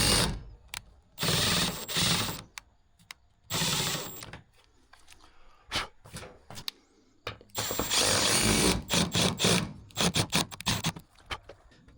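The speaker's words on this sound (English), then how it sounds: "definitely makes it a little easier just to get a pilot hole started like that through both sheets" Pilot holes are driven through stacked metal roofing sheets with a power tool, heard as repeated loud, close bursts of whirring and grinding separated by short pauses and quicker stuttering pulses.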